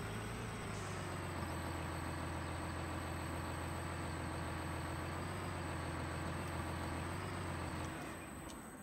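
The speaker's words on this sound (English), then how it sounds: "Take me about, what, 6 point turn with this tractor?" A tractor engine in Farming Simulator 19 drones at a steady low idle while maneuvering back and forth, an even mechanical hum that holds for several seconds and fades slightly at the end, with no talking.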